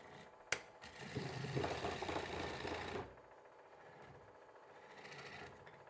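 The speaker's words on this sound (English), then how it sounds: "Let's take away that little nub. Do it with the bowl gouge since it's sitting here." A bowl gouge on a wood lathe cuts away a small nub on a rough-turned bowl blank, giving a steady, faint buzzing chatter for about two seconds after a sharp tick, then only the lathe's quieter hum.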